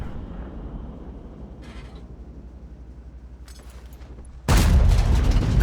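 Tank cannon fire in a tank battle video game on the Murovanka map, with a low rumbling engine bed and faint distant shots giving way to a sudden loud, sustained broadband boom and roar near the end.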